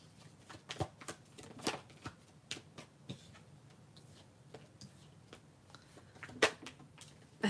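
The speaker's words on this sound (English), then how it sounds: "I need to shuffle the cards a little bit" Soft, irregular riffling and tapping of cards being shuffled, quiet and close, with occasional sharper flicks.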